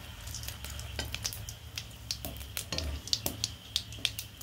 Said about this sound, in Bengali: সেই ভাজা তেলেই আমি দিয়ে দেব জিরে, দিয়ে দেব তেজপাতা, দিয়ে দেব একটা শুকনো লঙ্কা